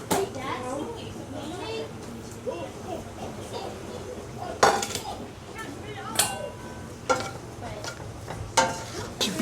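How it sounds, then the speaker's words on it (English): Chopped bacon frying and being stirred in a pan at home, steady sizzle with sharp scrapes and clanks of a utensil against the pan, while children chatter in the background. "Next step is to fry the chopped up bacon in the same pan"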